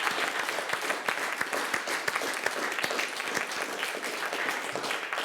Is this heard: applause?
yes